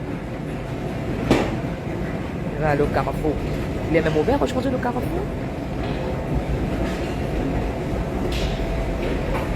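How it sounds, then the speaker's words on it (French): Metro train rumbling through an underground station or tunnel, a steady low roar with clattering swells, heard under close conversational French speech throughout. "je vais descendre au métro, je dois aller faire mes courses."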